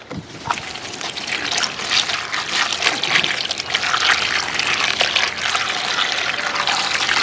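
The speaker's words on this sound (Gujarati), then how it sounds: "હવે આપણે ભીંડો ધોઈ નાખીએ" Whole okra is washed by hand in water, giving a continuous close splashing and trickling with steady sloshing throughout.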